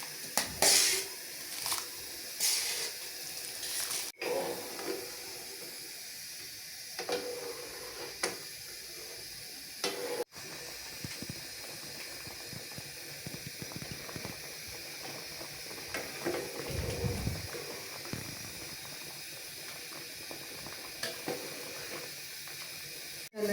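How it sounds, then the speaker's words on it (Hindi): Pot of water at a rolling boil with rice added for sweet zarda rice, a steady close-up hiss and bubbling churn with brief clatter, no one talking. "अब पानी उबलने लग गया"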